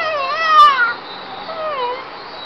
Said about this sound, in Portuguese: Isso é um gato miando,